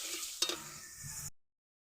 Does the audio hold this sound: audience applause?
no